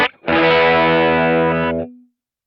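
Electric guitar through a Kemper merge profile of a Plexi-style amp, one loud distorted chord struck and held for about a second and a half before it is choked, leaving a brief low ring.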